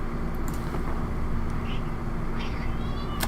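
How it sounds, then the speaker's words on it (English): A house cat meows indoors, a few short, faint calls heard over a steady background hum, with no talk. "Oh, it's the cat making that noise."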